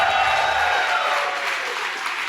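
An arena crowd at the MLG Arena in Columbus, Ohio, at a CEVO Season 7 esports finals, cheering and clapping in a loud, broad wash that slowly fades, with a faint tonal hum underneath.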